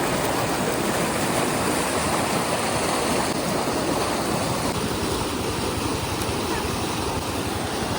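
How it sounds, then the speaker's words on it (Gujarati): A waterfall pours water in a continuous, dense roar, loud and unbroken throughout, with no voices heard over it. "કારણ કે ધોધ છે પાણી."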